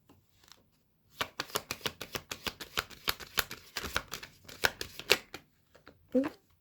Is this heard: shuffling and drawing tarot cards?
yes